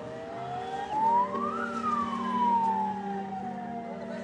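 An ambulance siren wails in the distance, its pitch rising and falling in a slow sweep, fairly faint with no talk.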